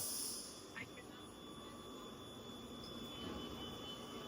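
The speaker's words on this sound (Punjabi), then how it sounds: "ਆ ਗਈ ਆਪਣੀ ਮੈਟਰੋ ਸਪੀਡ ਤੇ ਕਰੋ ਮੈਟਰੋ ਦੀ ਕਿੰਨੀ ਆ ਬਹੁਤ ਤੇਜ਼ ਹੁੰਦੀ ਸਪੀਡ ਇਹਦੀ" A steady rumbling roar of a metro train arriving at speed in Italy, with a high whine and faint squeal over the continuous mechanical noise.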